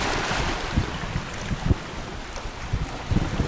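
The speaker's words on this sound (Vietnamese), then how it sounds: "Chiếc xuồng chạy động cơ xăng." A petrol-engine motorboat heading out at sea in wind, with constant broadband wind and water rush masking a low engine rumble and occasional thumps as the hull meets waves.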